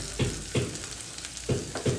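Bitter gourd and onions fry in a pan for a yogurt bitter gourd curry, giving a steady sizzle with four short, louder bursts of stirring or spatula scrapes at fairly even intervals.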